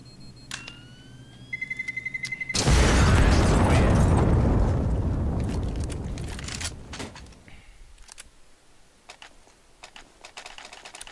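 A bomb goes off on the Train map in Counter-Strike, heard alone. Quick clicks lead into a huge roaring blast that rumbles and slowly fades over several seconds, followed by scattered sharp clicks and taps.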